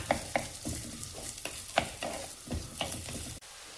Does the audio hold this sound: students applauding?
no